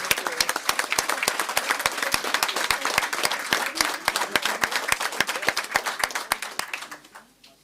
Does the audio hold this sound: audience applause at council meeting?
yes